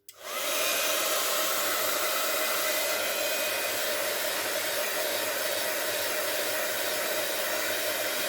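A hair dryer drying a craft piece starts abruptly and runs steadily at full power, a loud, even whoosh with a constant motor whine, alone and without talk.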